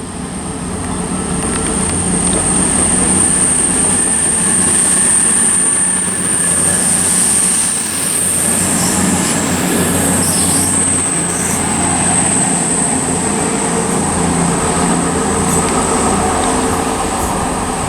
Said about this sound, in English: departing now in the background is going to be the 12:09 cross-country service from Paignton to Manchester Piccadilly